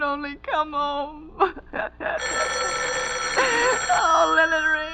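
An old-fashioned telephone bell rings insistently in a radio mystery drama, a loud continuous metallic jangle that follows a woman's distressed, whimpering voice.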